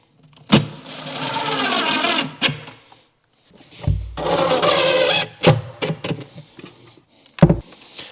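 A power driver runs screws through cabinet brackets into wood in a few bursts of whirring: a long drive near the start, another midway, then short blips, each loud and close with pauses between.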